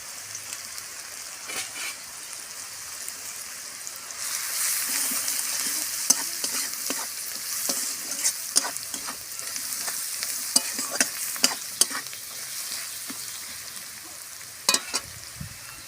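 Browned onions frying in a pan with Kashmiri chilli added, for a jackfruit curry, a steady sizzle through the whole stretch with repeated scraping stirs of a spoon, growing denser and louder midway, close and without talk.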